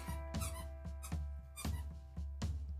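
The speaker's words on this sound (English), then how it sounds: "Ignore the squeaky toys." A dog squeezing squeaky toys indoors, producing four or five sharp, tonal squeaks in an uneven rhythm, close and fairly loud with no talking.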